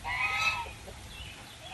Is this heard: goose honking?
yes